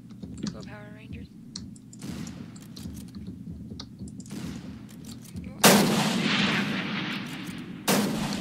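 Gunfire in the Roblox game Call of Robloxia: scattered clicks and shots, then two loud, sustained bursts of firing near the end.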